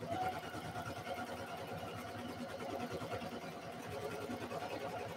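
A sewing machine stitches a tutu, its fast mechanical whirring running steadily and fairly quietly at close range, with no talking over it.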